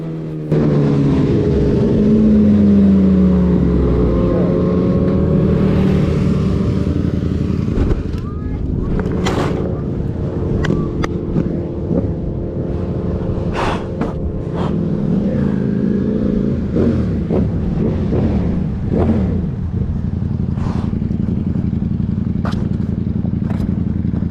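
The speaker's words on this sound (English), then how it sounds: "This biker is testing his motorcycle with his friends." A motorcycle engine revs and rumbles up close as a rider tests it with friends, rising and falling over a long stretch, with clattering and voices mixed in.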